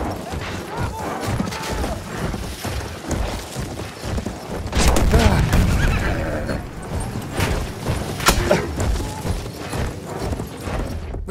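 A cavalry horse gallops and neighs in Battlefield 1 battle: steady hoofbeats and loud whinnies under distant explosions and gunfire, with shouted German voices and radio-style commands.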